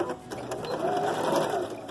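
A sewing machine runs steadily for a couple of seconds, stitching a patchwork seam on small fabric blocks for a cushion, its rapid mechanical whir close and continuous.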